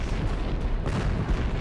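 A dense, rumbling explosion sound effect, a continuous booming roar with crackling bursts that fills the whole short moment at high volume.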